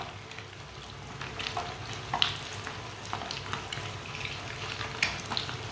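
Egg and gram flour batter sizzles and crackles in a pan, with close, steady frying and occasional sharper pops and spatters, no voices.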